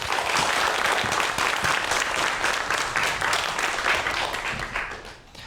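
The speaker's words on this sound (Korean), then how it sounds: "큰 박수로 강연 시작할게요." An audience at a science lecture on friction breaks into loud, continuous applause, a thick wash of clapping that holds steady and starts to fade near the end.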